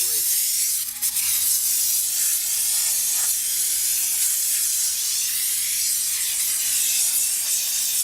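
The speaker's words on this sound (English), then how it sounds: "the more I'm steaming it, the warmer I'm making a tire" Steam cleaner blasting a Yamaha R1 front wheel and tire, a loud, continuous close hiss with a faint steady hum beneath and slight fluctuations.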